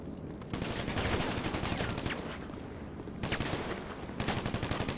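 Sustained automatic gunfire in GTA V Online rattles in dense, continuous bursts with brief gaps between volleys, moderately loud and busy throughout.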